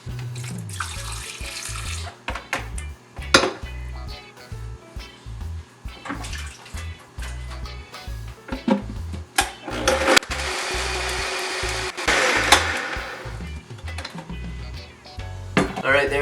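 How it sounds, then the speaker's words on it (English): A blender whirs through a healthy salad dressing with a cup or two of water, in uneven surging bursts mixed with sloshing and clattering, close and fairly loud. "Probably just gonna add a cup or two of water and blend it up"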